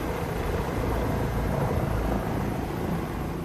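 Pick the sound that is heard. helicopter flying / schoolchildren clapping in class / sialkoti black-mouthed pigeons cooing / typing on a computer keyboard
helicopter flying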